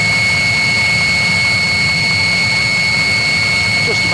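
Steady combustion roar from a running 16 kW Chinese diesel water heater, a close, loud blower rush with a fixed high-pitched whine over it, continuous and unchanging with no talking.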